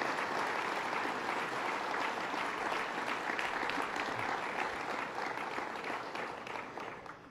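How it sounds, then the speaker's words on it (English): Sustained audience applause at a government funding announcement in Buffalo, honoring President Barry Snyder; steady broadband clapping from a large crowd holding for several seconds, then tapering off near the end, with no talk over it. "let's give him a round of applause"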